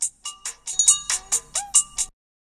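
A phone ringtone plays a clear, bright sequence of about nine evenly spaced electronic chirping tones, close and alone, then cuts off into silence.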